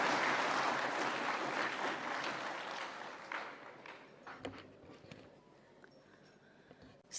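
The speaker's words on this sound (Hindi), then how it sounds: "जोरदार तालियों के साथ स्वागत माननीय मंत्री महोदया जी का।" Applause welcoming a minister at a street food vendors' training and awareness event: dense clapping starts strong, then thins and fades over several seconds into scattered claps, shuffling and footsteps.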